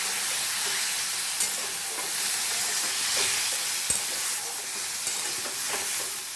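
Garlic, dried chilli and cumin paste sautéing with papaya, a steady close sizzle and hiss of frying with a few faint stirring knocks, no voices.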